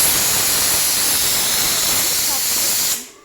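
Raw mustard oil hissing and sizzling in a hot pan on a gas stove, a loud steady steamy hiss lasting about three seconds that cuts off abruptly as the pan is covered.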